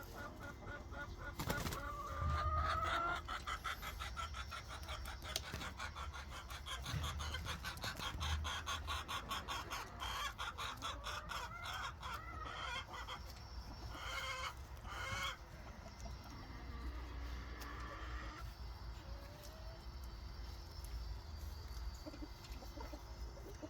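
Chickens cluck repeatedly in a backyard coop on a spring morning, with scattered calls and rustling from several birds at close range, alone without talk.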